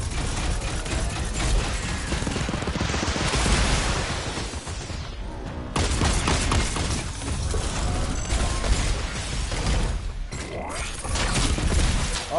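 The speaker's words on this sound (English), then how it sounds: "They're shooting at us from over there." Sniper and rifle gunfire in a shooter video game, a dense, continuous run of sharp cracks and clattering mechanical bursts, loud and close, with brief muffled gaps.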